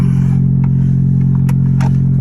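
Abarth 500 Turbo engine idling high, a loud steady close-up hum with a constant even pulse and a few faint clicks on top, no talking.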